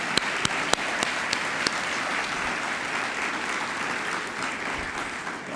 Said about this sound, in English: if you could all just join me in giving Hillary a round of applause.